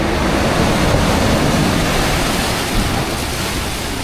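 Strong ocean waves crashing, a loud continuous roar of surf close to the microphone with some wind noise and no breaks.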